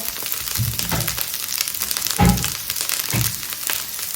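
Asparagus stir-frying in hot oil in a pan, a steady crackling sizzle broken by a few louder scraping, tossing thumps as the spears are moved.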